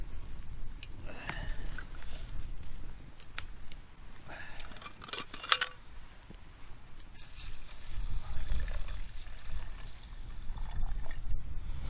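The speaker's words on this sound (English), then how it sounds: "splash of water." Water splashes and trickles into a cooking pot holding a crushed oxo cube at an outdoor coastal camp, a soft pouring wash with faint clinks over steady low background rumble.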